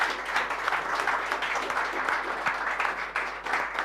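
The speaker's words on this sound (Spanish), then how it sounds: "démosle un gran aplauso a nuestro gran invitado principal" An audience gives a guest speaker sustained, dense applause, a steady wash of many hands clapping at close range with no pauses.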